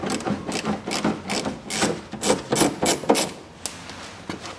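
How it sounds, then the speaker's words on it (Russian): A self-tapping screw is backed out of the front fender liner of a 2004 Toyota Land Cruiser Prado 120, making a close series of rhythmic rasping, ratcheting turns that repeat about every half second. "Кручу вот этот саморез на подкрылке."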